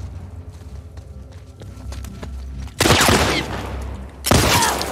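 Loud bursts of gunfire from a firearm in The Last of Us Part 2 break in sharply after a quiet stretch. Two heavy, broadband volleys come close together, with low ambient rumble beneath and no talking.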